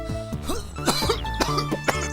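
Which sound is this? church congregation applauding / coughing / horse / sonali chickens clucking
coughing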